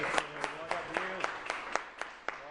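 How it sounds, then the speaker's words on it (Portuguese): A Portuguese-speaking church congregation claps during a Wednesday service. The claps come in a steady, even rhythm roughly every quarter second, moderately loud, over a sustained musical tone and voices. "Aplauda o Senhor"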